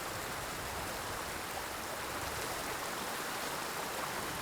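Steady, unbroken rush of falling water from a waterfall in a video game, heard close and fairly quiet as a constant broadband hiss with no voices over it.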